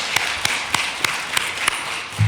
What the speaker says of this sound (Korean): 우리 박수 한번 쳐주시겠습니다